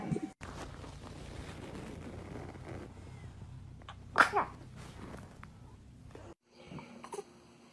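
A baby sneezes once sharply near the mic, followed by a smaller second burst, set against a steady low room hum.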